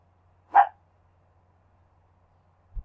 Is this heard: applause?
no